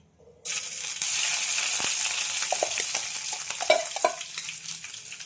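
Ginger garlic paste frying in hot oil for a mutton dish, a loud steady sizzle that starts abruptly and continues with occasional clinks and scrapes of a stirring spoon against the pan.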